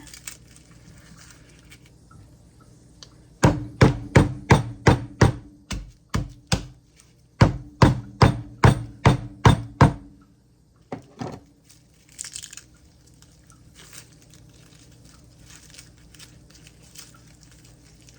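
Sharp, regular knocks of garlic being crushed in a kitchen, two quick bursts of about eight to ten blows each, close and loud, with a few softer taps trailing off afterward.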